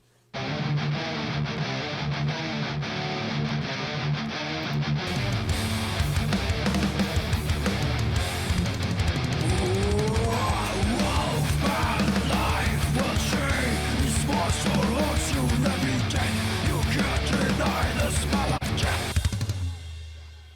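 Loud, heavily distorted metal rhythm guitars chug through a dense, steady riff with a full low end, running continuously before cutting off at the end.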